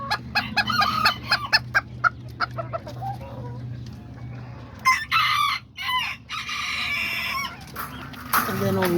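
Azteca and Serama bantam roosters and hens cluck steadily in a backyard coop, with repeated nearby crowing bursts over a low background hum.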